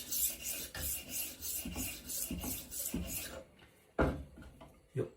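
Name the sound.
HORL 2 rolling knife sharpener sharpening a knife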